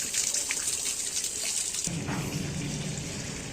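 Water rushes steadily through a home water softener during its rinse cycle, a continuous close gush that shifts into a deeper, fuller flow partway through, with no voices.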